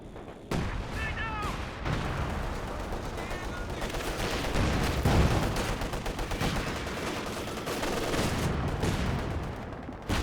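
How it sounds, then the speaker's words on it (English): Howitzer artillery and gunfire in the Company of Heroes 2 video game, a dense barrage of repeated booms and rattling shots under faint shouting, with continuous loud battle noise throughout. "Howitz is blasting both directions here."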